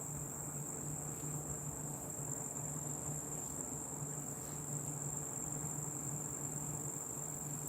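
Crickets chirp at night in a steady, continuous high trill, fairly faint and unbroken throughout, with no talk.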